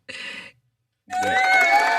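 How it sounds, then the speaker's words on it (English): Studio audience bursts into sustained applause and cheering for Anthony, a loud crowd wash with excited voices, following a brief earlier burst and a short pause. "Can we get a hand clap for Anthony for that?"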